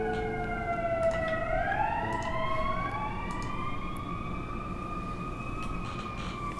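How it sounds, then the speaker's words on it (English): A siren wails and sweeps in pitch as an emergency vehicle passes, steady and fairly loud over a constant rumble of traffic. "Sirens going by."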